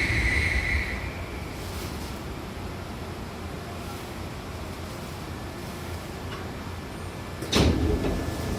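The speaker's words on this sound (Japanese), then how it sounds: "扉は閉まります。" A Hankyu Kyoto Line train's sliding doors close near the end with a loud, quick thud, after a steady rumble of the train interior and a brief chime at the start.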